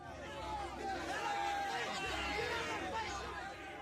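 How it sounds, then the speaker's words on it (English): In the video game The Life and Suffering of Sir Brante, an angry courtroom crowd roars as a continuous, loud babble of many voices that holds steady from start to finish. "The angry roar of the crowd is growing louder."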